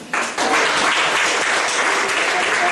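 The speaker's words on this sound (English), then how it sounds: "Give her a round of applause." A graduation audience at a 1997 League School ceremony breaks into applause: dense clapping starts abruptly, then holds loud, close and steady throughout.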